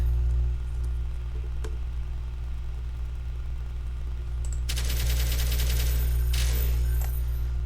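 A British machine gun fires .303 rounds in the video game Call to Battle. After a steady low hum, a loud, sustained burst of rapid shots fills the second half of the clip.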